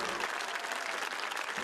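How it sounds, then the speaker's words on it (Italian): An audience on a televised variety show applauds steadily and evenly, a dense wash of clapping that fills the whole short stretch with no pause. "Facciamo un applauso, prego, prego."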